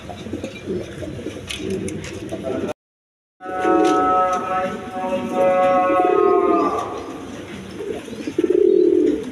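A pair of American Fantail pigeons coo in low, throaty, repeated rolls at a pigeon market, close by, with a brief silent gap early on and background murmur throughout.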